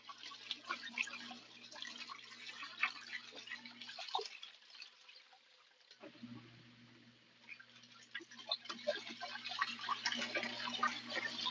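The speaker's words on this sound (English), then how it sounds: "because it's doing the cooldown fill while agitating, so it's probably just gonna splash even more now" An LG ThinQ Mega Ultimate washer agitates during a cool-down fill, faint irregular splashing and dripping water over a low motor hum that briefly cuts out and then resumes.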